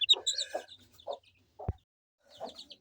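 A broody hen clucks in short low bursts, near and clear, with several small chicks peeping high around her and a soft thump partway through.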